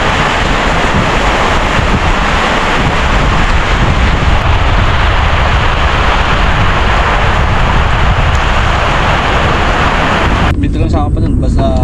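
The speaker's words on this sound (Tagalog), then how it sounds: "Biglang ulan mga buddy, sa lakas oh." Loud, dense sudden rain roars steadily over crop fields with strong wind buffeting, a constant heavy wash of noise throughout.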